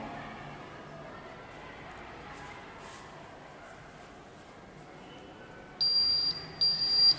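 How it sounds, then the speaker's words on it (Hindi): An IoT food spoilage detector's buzzer sounds near the end, a loud, steady electronic high-pitched tone in two bursts with a short break between, after several seconds of quiet room noise. "और फिर बजर ऑन हो जाता है"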